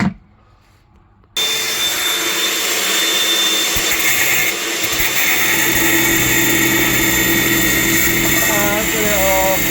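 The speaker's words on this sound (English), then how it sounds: "they've all rusted off, so we can't get them off. So now I'm going to grind them off." Loud, steady whine of an angle grinder cutting off rusted toilet bolts, starting abruptly after a brief quiet moment and running continuously up close with harsh grinding texture throughout.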